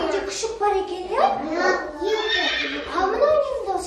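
A horse on a village farm gives a high, wavering whinny with repeated rising and falling neighs, loud and near, filling the brief clip.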